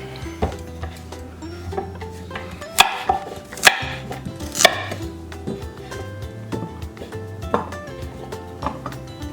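A knife chops parsnip on a cutting board for a pork roast, with uneven knocks and a few louder sharp strikes over a steady low background hum, close and moderately loud, without speech.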